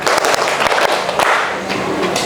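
A group claps hands in a classroom test round, a dense wash of overlapping claps with a few sharper hits standing out and little talk.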